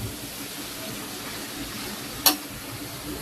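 Bitter gourd frying in a pan in a home kitchen in Madaripur, Bangladesh. A steady, close hiss of oil runs throughout, broken once by a single sharp pop.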